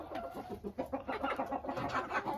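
Cochin bantam chickens out in the snow cluck softly and steadily at close range, several birds murmuring together with no voices over them.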